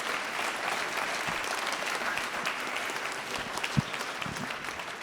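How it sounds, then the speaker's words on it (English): An event audience at a London e-truck launch gives a round of applause, a dense, steady wash of clapping at moderate distance that holds for the full five seconds with a few sharper claps standing out. "Round of applause for Richard, please."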